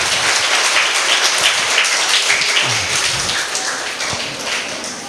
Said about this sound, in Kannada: ಜೋರಾಗಿ ಚಪ್ಪಾಳೆ ತಟ್ಟಬೇಕು.